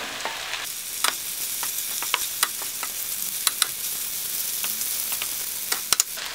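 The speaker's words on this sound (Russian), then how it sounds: "Теперь добавляем картошку, обжаренный перец" Potatoes and fried peppers going into a frying pan of eggplant: a steady, loud sizzle runs throughout, cut by sharp clicks and scrapes of a utensil against the pan, with no talk.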